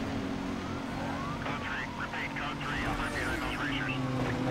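A police siren wails in a racing video game, its rising and falling tones sweeping over steady engine rumble for several seconds, with people talking over it.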